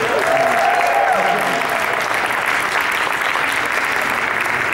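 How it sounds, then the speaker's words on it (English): Steady audience applause fills a Eurovision song competition meet-and-greet event in Kyiv, dense and continuous throughout, with faint voices mixed into the clapping. "please have a round of applause for Germany"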